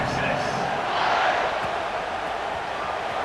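Steady, dense stadium crowd roar from a College Football 26 video game, a continuous wash of distant voices, with game commentary heard over the crowd noise.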